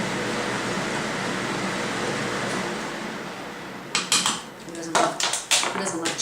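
Metal spoon scraping and clinking against a pot as heaping tablespoons of Kraft Parmesan cheese go into creamy mac and cheese, several sharp clinks near the end over a steady background hum.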